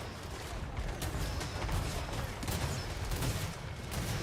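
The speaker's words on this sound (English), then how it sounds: "Mr. Steinberg Barrackmere, torn apart by Nuln rifle fire." Nuln rifle fire in a Total War: Warhammer 3 battle, a continuous dense crackle of massed gunshots and volleys over a loud rumbling battle din.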